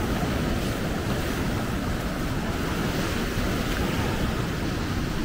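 Heavy ocean surf from Hurricane Ian crashes in a continuous loud roar of breaking waves, with wind buffeting the microphone throughout.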